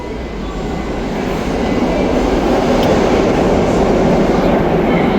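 A New York City subway train rushes through the station, a loud, dense roar of rolling wheels and rattling cars building and holding steady without letup.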